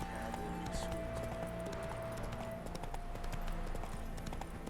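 Horse hooves clip-clopping on the road in the video game The Witcher 3: Wild Hunt, a brisk, even rhythm of close hoofbeats over music and ambient sound, with no talking.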